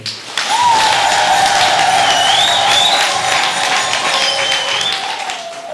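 Church congregation applauding in a parish gathering, a loud sustained burst of clapping with some cheering, and a high whistle-like tone rising and falling above the crowd before the clapping thins toward the end.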